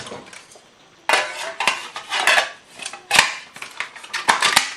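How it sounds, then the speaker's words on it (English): A Trangia aluminium cooking set, an ex-Swedish army alcohol stove kit, is packed away, with pots and parts nesting and knocking together in a quick run of close, loud metallic clanks and rattles, no talking. "you fold down the pot stand legs inside, and"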